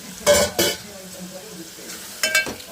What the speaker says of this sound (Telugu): టమాటాలు మగ్గుతున్నాయి చూద్దాం